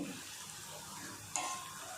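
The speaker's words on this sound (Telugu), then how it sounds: "ఇలా గారెలు చిన్న చిన్నగా వేసుకొని కాల్ చేసుకోవాలండి ఒక మంచి కలర్ వచ్చిన తర్వాత తీసేసుకోవాలి" Small urad dal vadas (garelu) frying in hot oil give a soft, steady sizzle, with one brief sharper clink of a utensil partway through.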